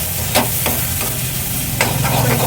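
Chili powder and turmeric stirred into tomatoes cooking in a pan for a Gujarati brinjal dish: a steady loud sizzle with a few sharp scraping strokes of the spoon, and no one talking.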